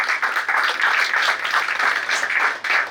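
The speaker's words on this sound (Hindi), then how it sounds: "जोरदार तालियां।" Audience applause at a World Pharmacists Day session as a memento is presented, a steady wash of many hands clapping that holds for about three seconds with no talk over it.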